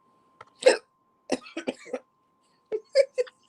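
A person hiccups and then belches, with several short throaty bursts spread across a few seconds, close to the mic in an otherwise quiet room.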